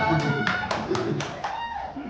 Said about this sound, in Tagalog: palakpak ka naman dyan